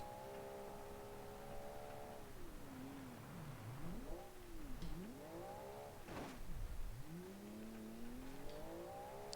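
A naturally aspirated car engine in a rally racing video game revs up and down repeatedly, its pitch swooping between gear changes with a sharp pop or two, all faint and distant.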